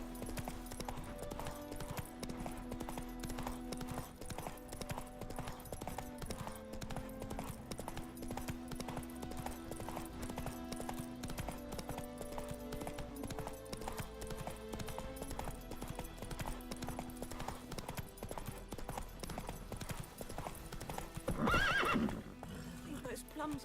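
Roach, a horse in The Witcher 3, clip-clopping along at a steady gallop under game music, then letting out a loud, sharp neigh near the end.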